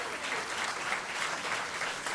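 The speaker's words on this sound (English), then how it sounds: "Give him a round of applause" A crowd at a Philadelphia civic event claps for Register of Wills John Sabatini Sr., a steady, moderately distant round of applause with no voices over it.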